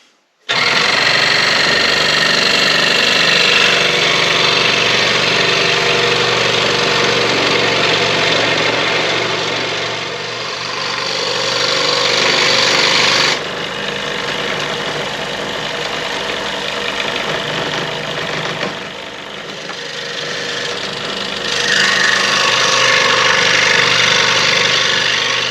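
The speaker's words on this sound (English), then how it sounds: "I'm cutting these out with the scroll saw" A small scroll saw cuts out wooden pieces for a key holder charcuterie board, its steady buzzing, rapid reciprocating drone running loud and close for the whole stretch with slight dips as the cut changes.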